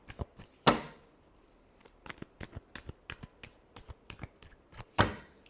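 Tarot cards being shuffled, with two sharp riffle bursts separated by a run of soft, quick card taps and flicks, close and fairly quiet, no voices.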